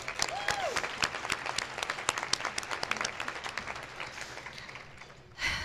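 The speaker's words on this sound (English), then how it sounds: "So please give them another round of applause." A small crowd applauds with scattered, overlapping claps that gradually thin out, then a brief burst of noise at the very end.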